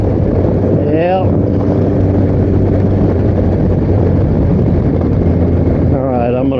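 A Kawasaki Concours 14 motorcycle with a slipping clutch is ridden. The engine drones steadily under heavy wind buffeting, and its revs flare briefly near the start and again near the end.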